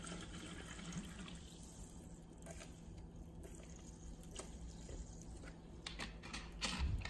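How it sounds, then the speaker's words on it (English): Galvanina sparkling mineral water pours from a bottle into a glass, a faint steady splash and fizzing stream running for several seconds, louder toward the end. "Let's pour some water in."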